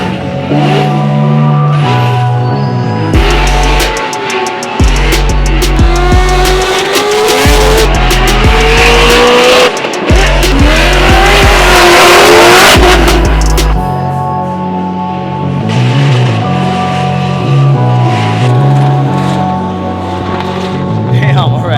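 A FormulaDrift car on a practice run roars close and loud, its engine revving up and down in repeated sweeps with screeching tire squeal and skidding, the noise continuous for the whole stretch.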